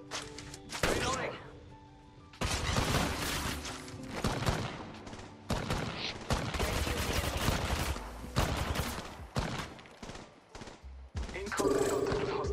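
Automatic gunfire from the game Apex Legends comes in repeated loud bursts separated by short pauses, mixed with in-game voice callouts between volleys.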